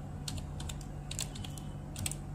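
Typing on a computer keyboard while entering Windows 10 command prompt commands, with clusters of close, crisp key clicks in an irregular rhythm over a steady low hum, no talk.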